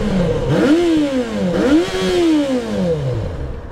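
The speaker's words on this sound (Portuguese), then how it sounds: "Vou funcionar aqui para vocês escutarem aqui a sinfonia dessa motocicleta." A 2012 Yamaha XJ6 motorcycle with its original exhaust idles and is revved twice, the engine note rising and falling in smooth sweeps, loud and close with no talking.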